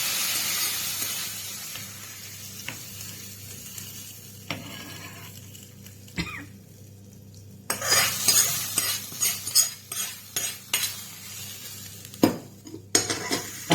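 A tempering of fenugreek, mustard seeds and dried red chili goes into a pot of kumbalanga (ash gourd) pulissery, giving a burst of close sizzling and crackling with clinks of a ladle against the metal pot after a quiet, stirring start.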